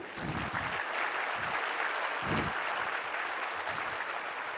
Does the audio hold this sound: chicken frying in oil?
no